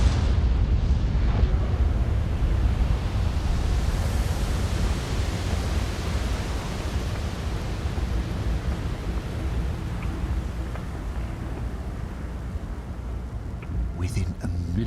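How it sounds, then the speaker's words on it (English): A deep, continuous roaring rumble marks the Big Bang explosion in a VR documentary game about the universe's origin, holding loud and broad throughout under a narrator's voice. "Suddenly, the universe expanded. We call this moment the Big Bang."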